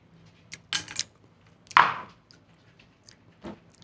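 A knife chops fresh parsley on a cutting board in a home kitchen, a few irregular crisp cuts with one heavier chop, close and without talk.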